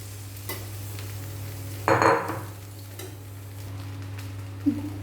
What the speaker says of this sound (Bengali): এরপর ভাত ঘিয়ের মধ্যে নাড়াচাড়া করে নেব